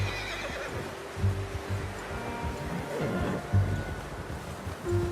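A horse in the video game Red Dead Redemption 2 gives several close whinnies and snorts, with soft hoof clip-clops and faint ambient rustle underneath.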